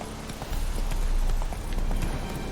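Hooves of Roach, a horse in The Witcher 3 video game, clip-clop in a steady galloping rhythm, loud and close, with little else over them.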